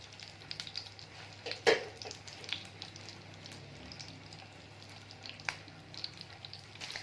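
Mutton shami kebab dipped in egg goes into hot oil and fries with a faint, steady sizzle, broken by a few soft clicks and pops. No one speaks.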